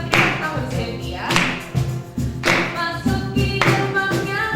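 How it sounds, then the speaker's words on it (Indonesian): Bursts of handclaps from a youth church worship congregation, loud and close, arriving in rhythmic clusters under a voice that keeps talking and singing. "Mana tepuk tangannya?"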